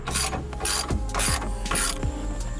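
A ratchet wrench tightening bolts while prepping a drift car for tech inspection, heard as four bursts of fast, close ratcheting clicks with short pauses between them and no talking.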